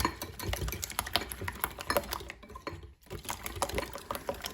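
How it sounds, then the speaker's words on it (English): Eggs are whisked with sugar in a bowl for bread dough, giving a steady, rapid ticking and scraping that runs continuously with a brief pause, fairly quiet and with no talk. "start getting them whisked up a little bit"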